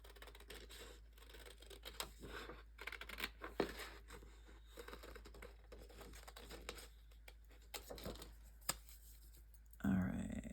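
Scissors snip out paper pieces made to look like washi tape for a junk journal, giving a string of close, crisp cuts and rustles with brief pauses, then a louder paper handling sound at the very end.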